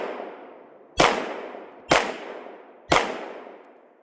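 Three loud, sharp 10mm pistol shots from a Glock G40 with a big heavy slide, fired close by at roughly one-second intervals, each crack followed by a short decaying ring.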